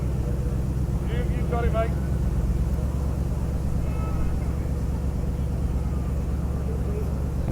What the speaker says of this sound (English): Cranking up the yellow Mustang.